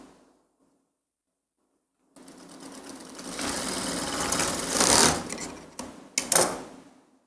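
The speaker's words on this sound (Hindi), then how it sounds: "अब हाफ इंच पे ही सिलाई करेंगे।" Sewing machine stitching a half-inch hem into fabric, starting after a quiet pause and running steadily for about five seconds with a couple of brief surges and stops near the end; no talking.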